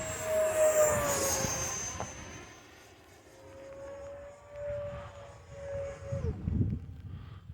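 An E-flite Viper 70mm electric ducted-fan RC jet at full throttle over a rainy airfield, a loud whining fan tone sliding down in pitch as the jet passes and recedes, with wind and rain noise underneath.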